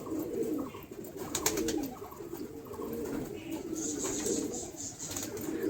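Pet pigeons cooing at home, soft repeated throaty coos close by, with a few faint chirps and a brief flutter over quiet background.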